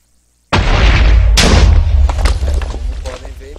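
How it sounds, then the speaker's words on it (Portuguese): A TNT blast in a Minecraft mod game: sudden loud booming explosion after a short silence, a second burst close behind, then rumbling debris crackle fading out. "Como podem ver, explodiu tudo"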